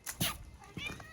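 A cat meows on a construction site at a property being cleared, giving two or three short, close calls with brief gaps between them.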